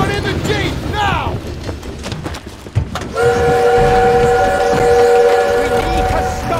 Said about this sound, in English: We need to stop that train!